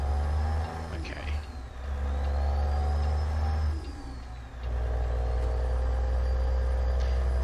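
Caterpillar C3176A truck engine in American Truck Simulator, a steady low diesel drone that dips briefly twice and rises again, loud and continuous with no talking.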